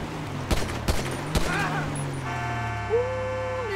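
Gunfire in the video game GTA 5 cracks out as three sharp shots in quick succession, followed by a steady electronic game tone, under a light ambient bed.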